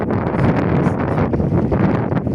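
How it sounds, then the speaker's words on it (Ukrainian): Strong, cold wind buffets the microphone in a steady, loud rushing roar with gusty fluctuations, no voices present. "вітер досить сильно піднявся"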